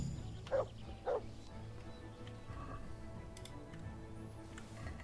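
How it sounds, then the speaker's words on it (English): A dog in Kingdom Come: Deliverance II gives two short, sharp barks close together near the start, then the scene settles into quiet in-game ambience with faint ticks and background sounds. "That's a dog."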